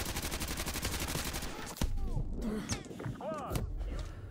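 Rapid gunfire in the Modern Warfare 2 campaign, a dense rattling burst of shots that stops abruptly, followed by scattered game sounds and distant whizzes.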